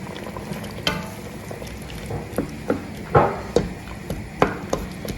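Blended tomatoes and pepper frying in a pot for Ghanaian kontomire cocoyam leaf stew, a low steady sizzle broken by several sharp scrapes and knocks of stirring, close by.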